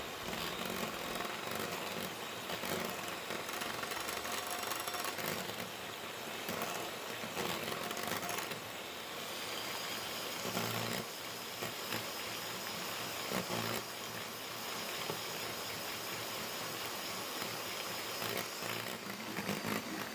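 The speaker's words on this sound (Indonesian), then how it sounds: "Sekarang kita mau lanjut kocok kuning telur dan juga gula halus" An electric mixer whirs steadily and continuously, beating egg yolks with powdered sugar for a Lapis Mandarin cake batter; a dense, unbroken motor drone with no talk.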